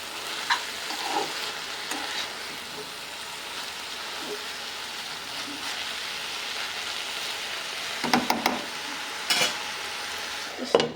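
Kolmi greens (water spinach) sizzle steadily in a frying pan, with a soft, continuous frying hiss broken by occasional scraping stirs and a few sharper clicks of the utensil against the pan toward the end.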